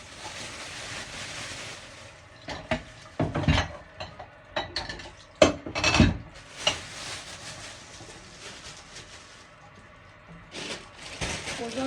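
Dishes and pots clatter and clank in bursts as they are washed, with splashing water between the knocks, fairly close, irregular and uneven in loudness.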